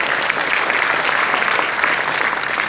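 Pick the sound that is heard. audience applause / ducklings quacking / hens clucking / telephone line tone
audience applause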